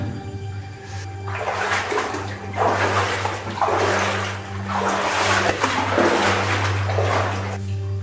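Iron-rich water flows through a coal mine gallery as a steady rushing and splashing that rises in repeated surges, close by and loud, over a constant low hum.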